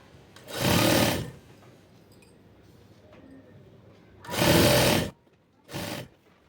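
A sewing machine stitches palazzo pants fabric in three bursts, a long run, then another long run and a short one, each a close, loud mechanical rattle separated by quiet pauses.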